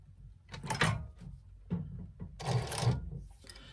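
A sewing machine top stitches along the edge of a wristlet in short bursts, its quiet motor whirring and clicking in separate runs with pauses between them, close up and faint.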